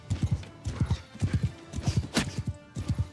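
Horse hooves clip-clop steadily in the Warhammer Old Realms mod, a quick rhythmic gallop of close, clear hoofbeats in repeated clusters, with a brief whoosh midway and no talking.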